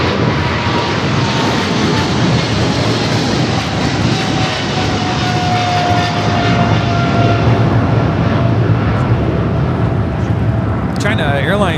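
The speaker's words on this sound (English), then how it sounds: "China Airlines Cargo 5137 taking off to Taipei on the 777 freighter." A China Airlines Cargo Boeing 777 freighter thunders down the runway on takeoff at LAX, a loud, steady jet-engine roar filling the scene continuously.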